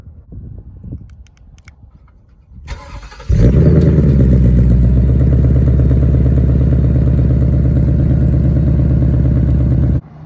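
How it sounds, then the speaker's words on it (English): A 2021 Ford Mustang Mach 1 engine fires up after a few seconds of quiet rustling, then settles into a loud, steady, rumbling idle with burbling exhaust close by until it cuts off. "Just love the sound of this car."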